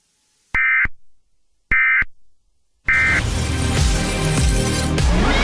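Mock Emergency Alert System tones: two short bursts of the shrill, steady two-tone attention signal separated by silence, then a third burst that runs into loud, dense noise with a low rumble, all loud and close with no talk.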